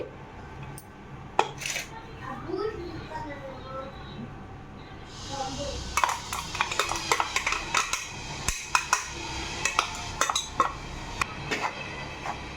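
Raw mango pickle pieces being mixed with spices in a vessel, giving clinking metal-on-dish scrapes and clatter that grow busier and denser halfway through, close up with faint voices in the background.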